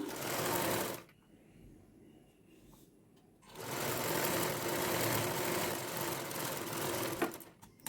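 A sewing machine stitches the shoulder seams of a half petticoat, running loud and steady for about a second, pausing, then resuming in a long continuous whirring run to the end.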